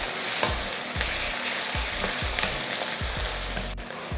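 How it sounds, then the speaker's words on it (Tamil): Onions and crushed garlic cloves sizzle and fry in a pan, with repeated stirring scrapes roughly every half second over a steady close hiss, and no talking. "சேர்த்துட்டு இதை நல்லா வதக்கி விட்டுறலாம்."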